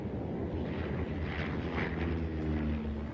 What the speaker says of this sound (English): The carrier-launched prop planes were now joined by Navy jets.